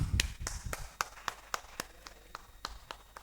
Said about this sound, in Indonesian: Beri aplaus dulu kepada kelompok satu.